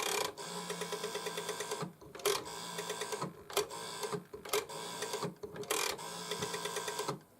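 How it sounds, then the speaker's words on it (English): A 1980 GPO Mickey Mouse telephone's rotary dial whirs back repeatedly in even ticking bursts, several returns separated by short gaps, close and clear with no talk. "this is what the dial sounds like"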